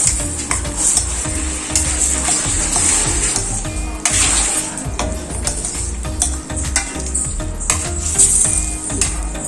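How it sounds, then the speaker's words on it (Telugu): Spice powder is stirred into a simmering drumstick masala curry in a pan, with repeated scraping strokes of a spoon over a steady bubbling sizzle and no talk. "చూస్తున్నారు కదా, నేను ఆ పౌడర్ని కూరలోకి యాడ్ చేస్తాను. ఇవన్నీ బాగా కలిసేట్టుగా మిక్స్ చేసుకోవాలి"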